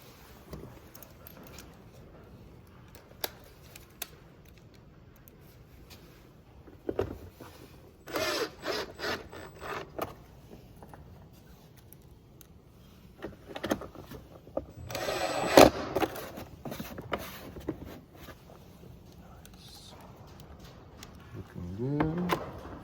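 An impact driver works on air intake bolts threaded into plastic, firing in short whirring bursts between quieter handling sounds and clanks, with brief pauses between each run.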